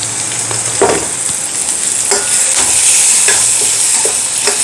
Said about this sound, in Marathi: आता यामध्ये आपण हिरवी मिरची घालूयात